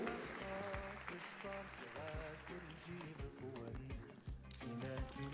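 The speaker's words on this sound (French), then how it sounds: "Et on l'applaudit" Applause from an audience at a thesis-presentation competition finale in Morocco, fairly quiet clapping mixed with background music and some voices underneath.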